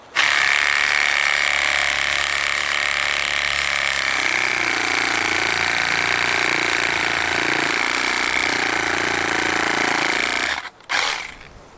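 A Milwaukee power tool runs steadily while cutting through a real tree branch held by hand, a loud continuous mechanical grinding drone that holds for about ten seconds before cutting out abruptly near the end.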